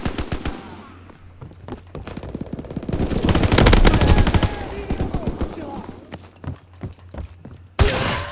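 GPMG light machine gun in Call of Duty WW2 (Winter Siege DLC) fires in long, rapid bursts, loud and close, cresting mid-clip, with a sharp final blast near the end and brief talk between bursts.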